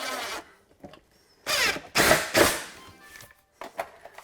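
A power driver sinks a wood screw with a built-in washer head into a wooden cabinet door, no pre-drilling, in bursts of whirring with short pauses between them, up close.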